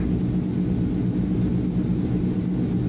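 A C-160 Transall turboprop transport in a flight simulator, engines droning at a steady loud roar during the takeoff run, an even continuous hum with no pauses.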